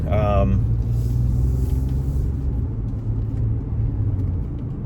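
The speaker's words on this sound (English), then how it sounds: "lots of cars. There aren't usually that many cars coming this way" Several cars pass close by on a road, a continuous loud rumble of engines and tyres swelling and fading, with a voice talking briefly at the start.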